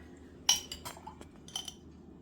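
A metal tablespoon clinks against a jar and dish while pepperoncini juice is measured out, a sharp clink followed by a few lighter taps and faint liquid sounds, close and quiet.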